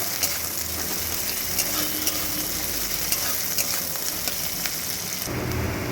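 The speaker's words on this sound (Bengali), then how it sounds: "এই পেঁয়াজের মধ্যেই রসুনগুলো দিয়ে দিলাম একটু নাড়াচাড়া করে এর সঙ্গে মিশিয়ে নেব" Chopped onion and garlic sautéing in hot oil in a pan for a mustard-oil fish curry, a steady close sizzle with scraping stir strokes and clicks of a spatula throughout, no voices.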